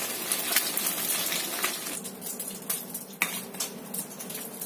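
Fried tofu is lifted out of hot oil and drained, with metal utensils clinking and scraping against a pan in scattered light taps over a faint background sizzle.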